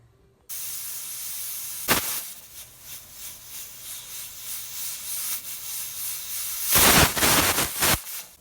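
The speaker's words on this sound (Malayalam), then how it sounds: "ഇപ്പോൾ 2 വിസിലായി കഴിഞ്ഞു." Pressure cooker cooking dal and spinach releases steam after its second whistle: a loud, continuous hiss starts abruptly, with sharper surges of venting breaking through near the start and end.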